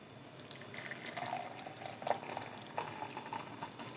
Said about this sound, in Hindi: अब इसमें गिलास में कहवे को डालेंगे।